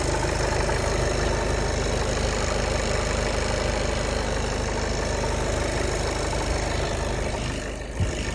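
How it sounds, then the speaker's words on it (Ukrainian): A Skoda Octavia A7 with a 1.6 diesel engine and automatic gearbox, about 203,000 km on it, idles with a steady, even, loud low rumble and a slight diesel clatter, with a brief change near the end. "Двигун працює рівно, без сторонніх шумів."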